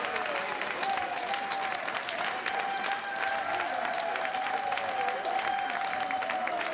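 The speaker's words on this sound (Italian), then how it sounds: "fate l'applauso ai nostri ragazzi" A concert crowd in an open-air town square claps steadily for the band, a dense, continuous wash of applause with a faint sustained tone running underneath.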